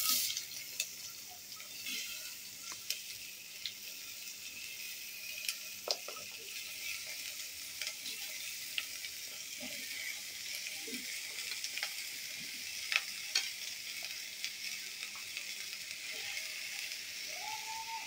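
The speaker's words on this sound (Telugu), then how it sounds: "కరివేపాకు కూడా వేగాక మనం తరిగి పెట్టుకున్న ముక్కలన్నీ వేసేద్దాం ఫ్రెండ్స్." Chopped vegetables including potato frying with curry leaves in oil for sambar, a steady close hiss of sizzling with scattered pops and occasional scraping stirs.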